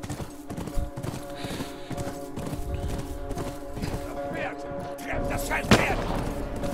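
Horse hooves clatter in a rapid galloping rhythm in The Last of Us, mixed with game effects and a sharp gunshot-like crack near the end, while someone talks and exclaims over it.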